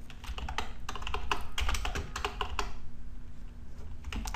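A tail -f command typed on a computer keyboard, with a close, steady run of quick key clicks followed by a brief pause and a few more taps.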